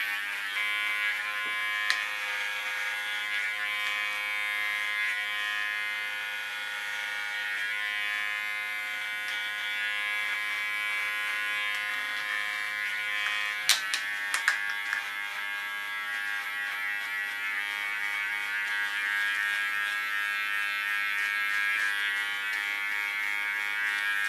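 Electric hair clippers cleaning up the contour of a hairline, a continuous steady buzz that sounds close and holds even for a long stretch, with a few brief clicks partway through.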